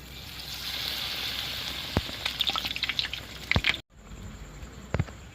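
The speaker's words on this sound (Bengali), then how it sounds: "আমি তেল দিয়ে দিচ্ছি। আমরা স্যান্ডউইচগুলো ভেজে নেব।" Chicken sandwiches frying in hot oil in a kadai give a steady, close hiss that breaks into crackling pops. The sound then cuts off abruptly, followed by a quieter background and a couple of faint knocks.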